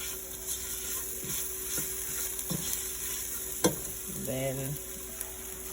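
Onions and peppercorns sautéing in a pot for Caribbean-style rice, a soft steady sizzle with a few scrapes and clicks of stirring, and a voice speaking briefly near the end.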